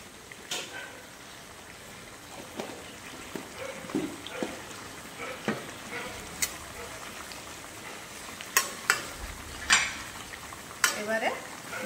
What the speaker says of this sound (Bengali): এবার দিয়ে দেবো অল্প একটু গাওয়া ঘি।